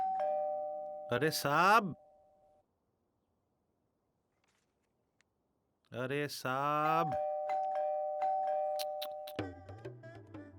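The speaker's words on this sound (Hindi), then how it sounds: "डोरबेल बज रहा है।" A doorbell chimes twice inside a home, with a pause between, and someone speaks over the second ring.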